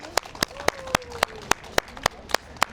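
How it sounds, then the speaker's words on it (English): A few people clap in a slow, even rhythm after a house auction in Springvale South, Victoria, about ten distinct sharp claps spaced evenly, close by and moderately loud, with faint talk underneath. "Let's give a round of applause to our new owner."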